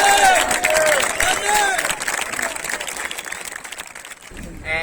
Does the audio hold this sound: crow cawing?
no